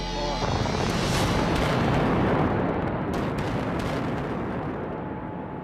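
A blast detonates at an iron ore mine in Western Australia, setting off a loud, sustained rumbling roar of rock and debris that slowly fades over several seconds.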